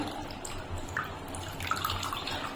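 Water squeezed by hand from rinsed chhena (fresh cheese curd) while making rasgulla, giving soft trickles and drips into a sink or bowl, steady and close with no talk.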